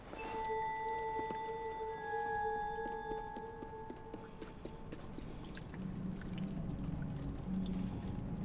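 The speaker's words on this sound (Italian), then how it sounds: "il rumore che fanno i passi sull'acqua" Repeated splashing footsteps wading through shallow water in the video game Little Nightmares 2, steady and close, with sustained musical tones humming in the background.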